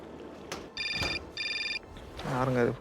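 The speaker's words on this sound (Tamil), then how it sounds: "யாருங்க இது ஃபோன் போடுறது?" A telephone rings in the Syberia adventure game with two electronic bursts of bright, evenly pulsing tones, then a voice starts speaking right after.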